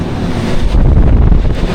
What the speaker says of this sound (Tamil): சூடாக காற்று வந்துட்டுருக்கு.